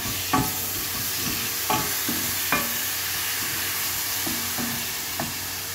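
Chopped tomatoes frying in a pan while cooking fish with tamarind sauce, with a steady close sizzle broken by several sharp stirring scrapes and clacks spaced through the clip, with no voices.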